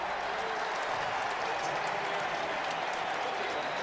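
Dense, steady crowd roar fills a stadium at an NFL football game between the Arizona Cardinals and Detroit Lions, a continuous wash of cheering and clapping with no break, loud and enveloping throughout.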